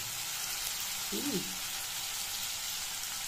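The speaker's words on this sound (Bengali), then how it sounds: "এটা আমি নুন হলুদ দিয়ে ভালো করে ভেজে নিলাম আলুটা।" Potatoes with salt and turmeric frying in oil in a kadai give a steady, close sizzle throughout, with a brief murmur of voice midway.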